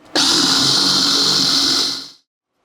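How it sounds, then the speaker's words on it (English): A power drill bores holes into the corners of a wooden prothonotary warbler nest box, one steady loud whir lasting about two seconds before stopping abruptly. "So we'll drill holes in each of the corners as well."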